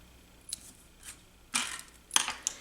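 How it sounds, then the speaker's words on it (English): Scissors snipping a length of polka dot ribbon for a handmade card, a few quiet, crisp cuts spread unevenly across a couple of seconds with brief pauses between, close up and with no talking. "I'm bringing in my polka dot ribbon as well, cutting off a piece."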